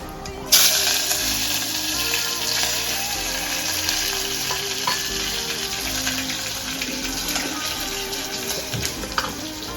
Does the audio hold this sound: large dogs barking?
no